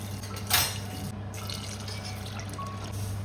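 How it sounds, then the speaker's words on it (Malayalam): Water is poured from a cup into a pressure cooker holding pasta: a brief splash near the start, then soft trickling and dripping over a low kitchen hum. "ശേഷം കുക്കറിലോട്ടേക്ക് മാറ്റി 3 കപ്പ് വെള്ളം ഒഴിക്കുക."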